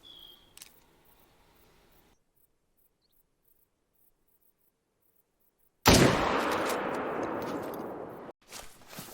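A .300 rifle fires at an elk in a hunting video game set in Layton Lake District. After a stretch of near silence comes one sudden loud blast with a long, roaring, echoing tail that cuts off abruptly.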